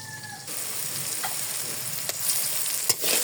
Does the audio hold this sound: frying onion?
yes